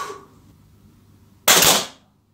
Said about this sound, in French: je vais tirer mes 10 plombs